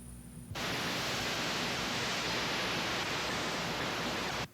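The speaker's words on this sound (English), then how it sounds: "The sound of a pine forest in the wind." Wind moves through a pine forest as a dense, steady rushing hiss. It swells in abruptly after a quiet moment, holds at an even, loud level, then cuts off at the end.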